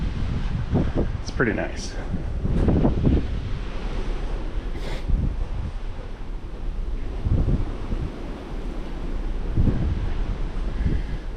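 The Carnival Panorama cruise ship plows through ocean waves, a constant loud rush of water and wind buffeting the microphone, with a person briefly speaking over it.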